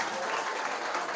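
A seminar audience at a school public speaking event breaks into brief, steady clapping for the first speaker, dense and continuous across the short burst.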